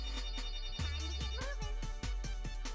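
A mobile phone ringtone goes off in a repeating pattern of bright tones that keeps sounding over game audio.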